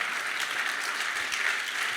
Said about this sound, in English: you can clap your hands